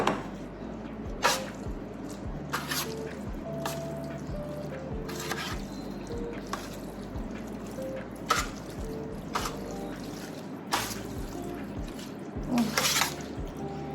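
Pasta is tossed through baked feta sauce in a pan, with soft wet squishes, drips and occasional sharper clacks of a utensil close by at a quiet, uneven pace.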